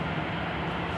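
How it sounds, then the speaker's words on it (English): A steady, droning jet engine roar from an airliner at an airport gate, constant and moderately loud with no breaks or other sounds. "That plane, you can clearly hear the engines."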